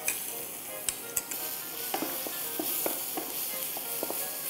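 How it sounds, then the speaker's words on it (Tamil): Ground onion paste frying in oil in a pan gives a steady sizzle, broken by several sharp spatters and a few scraping stirs, with no one talking. "இப்போ இதே சட்டியில் இன்னும் கொஞ்சம் எண்ணெய் விட்டு இதில் என்ன பண்ண போகிறோன்னா, முதல்ல நம்ம அரைச்சி வச்சுருக்கிற வெங்காயத்தை உள்ளே சேர்க்க போகிறோம்"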